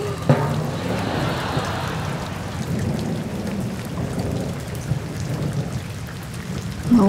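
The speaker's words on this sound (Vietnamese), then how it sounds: "Tiếng mưa dễ ngủ, tiếng mưa dễ ngủ." Steady, dense rain patters on surfaces with a low, continuous rumble of thunder underneath, played as a soothing sleep soundscape; it stays even and moderately loud throughout with no voices.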